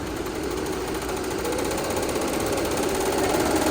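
A YunFu six-head embroidery machine running its automatic thread trimmer and color change, giving a steady close mechanical whir and hum with a fine rapid clatter throughout.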